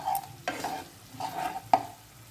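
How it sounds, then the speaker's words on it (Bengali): Spices for a Bengali-style aloo dum are stir-fried over a low flame, with a few distinct spatula scrapes and clatters against the pan over a soft sizzle, close and unhurried. "দেখুন 5-7 মিনিট ধরে আমি লো ফ্লেমের উপরে মশলাগুলোকে কষাচ্ছি।"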